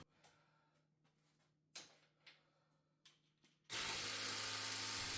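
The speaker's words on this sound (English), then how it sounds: "use the ratchet so I can feel how tight they are" Ratchet tightening the strut top bolts on a budget daily-driver car, heard as a few separate clicking bursts close by, then a loud steady broadband noise takes over near the end.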